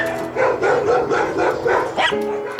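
Several dogs in a shelter kennel bark and yip continuously, close and loud, with overlapping voices and a whimpering note near the end.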